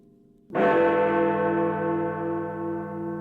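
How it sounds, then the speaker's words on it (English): The great bell of Big Ben at the Houses of Parliament in London strikes once, loud and close, with a rich metallic tone that rings on in a long, slowly fading hum. "I can hear the bells of Big Ben chiming every hour."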